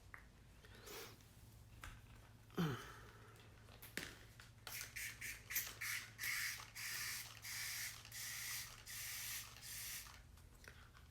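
A cheap water spray bottle in a workshop being squeezed in a quick series of short, crisp spritzes, faint and close, following a few soft handling noises.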